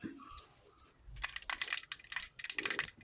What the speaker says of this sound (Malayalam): കടുക് നന്നായിട്ട് പൊട്ടി വരുന്നുണ്ട്